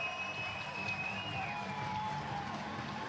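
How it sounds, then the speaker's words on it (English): A baseball crowd at North Harbour Stadium in Auckland cheers a home run in a steady, moderately distant roar of voices and applause that holds for a few seconds. "Wow, the crowd loved that."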